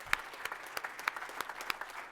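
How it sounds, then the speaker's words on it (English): Audience applause closing a festival debate about football, steady scattered clapping from a crowd at moderate distance, with no talk over it. "Give them a big round of applause"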